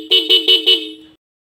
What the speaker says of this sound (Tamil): நம்ம பல்சர் 125க்கு ஹாரன் மாட்ட போகிறோம்